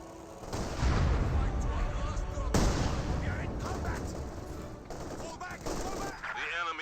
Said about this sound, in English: As more and more mortars were raining on in.